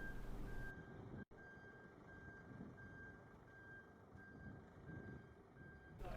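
A truck backs slowly into a garage, its reversing alarm beeping in a steady evenly spaced pulse throughout, heard faint and at some distance under low rumble.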